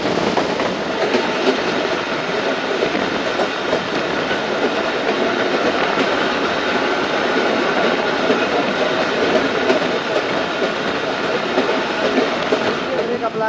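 The 130Dn Thal Express rolls toward Hasan Abdal station in the mountains, a loud, continuous rumble of wheels and carriage noise with a steady clickety-clack heard from on board.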